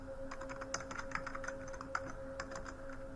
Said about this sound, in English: I'm going to just type in here